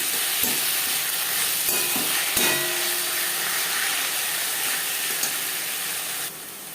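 Onion with ginger and green chili fries in a pan for a fish-head muri ghonto, making a continuous close sizzle with occasional soft stirring knocks. The sizzle drops slightly near the end.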